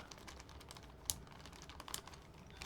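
Typing on a computer keyboard during a stream, a soft, quiet patter of key presses with a few sharper, louder clacks standing out.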